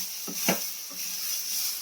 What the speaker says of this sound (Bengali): এবার হচ্ছে কাজু কিশমিশ দিয়ে দিলাম, দিয়ে ভালো করে নেড়ে নিতে হবে।